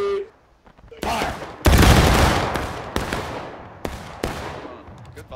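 A line of soldiers fires a musket volley in a multiplayer war video game, a loud layered burst of overlapping shots followed by scattered single reports and rolling echoes, with players shouting over the gunfire.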